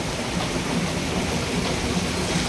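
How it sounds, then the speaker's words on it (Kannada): Heavy rain pours down steadily at a temple stop, a dense continuous wash of water drumming and splashing close by with no pauses. "ಕೊಟ್ರಲ್ಲಿ ನೀರು ಹೆಂಗೆ ದಬ ಸುರಿ ಆತಿ"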